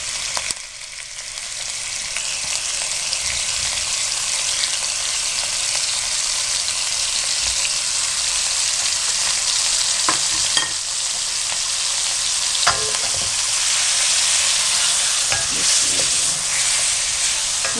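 Marinated chicken frying in hot oil in a karahi over medium heat, a steady dense sizzle running the whole time with occasional sharper crackles and pops, no talking.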